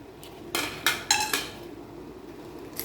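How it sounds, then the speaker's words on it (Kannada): Nutmeg being crushed for homemade Hyderabad biryani masala powder: four sharp metallic pounding strikes, close and distinct, followed by quiet. "ಜಾಯಿಕಾಯಿ ಇದನ್ನು ಜಜ್ಜಿ ಹಾಕ್ತಾಯಿದ್ದೀನಿ"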